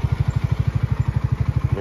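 A Suzuki GS 200cc motorcycle idles close by, its engine thumping in a steady, fast, even pulse with a mechanical clatter over it, loud and alone.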